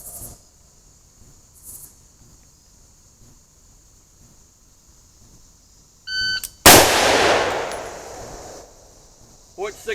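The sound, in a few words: gunshots at a shooting range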